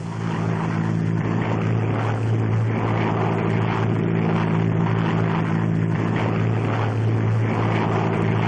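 Propeller aircraft flying slowly with the throttle pulled back while side-slipping over a supply drop area, a steady loud droning engine hum that continues unbroken throughout, with no voices.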